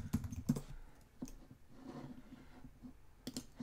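Keys patter on a computer keyboard as a search is typed into a browser, a few sharp taps at the start and end with a soft murmur of handling in between, close and quiet.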